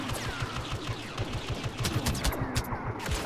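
Rapid blaster fire in the Star Wars Battlefront video game, an enemy sniper shooting a DLT-19, heard as dense overlapping bursts of shots with game effects, continuous and loud for the whole stretch.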